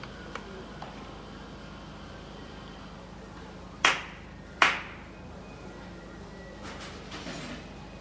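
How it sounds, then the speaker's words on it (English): Two sharp hand claps ring out close together at Kanda Myojin Shinto shrine during prayer, standing out clearly against quiet outdoor ambience, with a softer tap or two afterward. "then clap twice"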